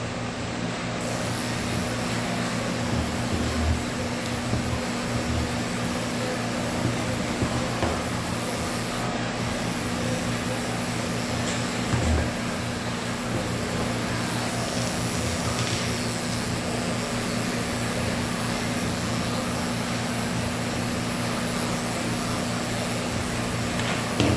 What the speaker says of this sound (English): I got some hair right here I gotta get. Where'd my baby clipper go?